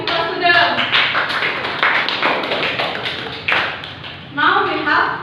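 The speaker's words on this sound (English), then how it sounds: "Give applause to them." A classroom of students claps in applause, a burst of scattered hand claps mixed with voices talking over them, fairly close and moderately loud.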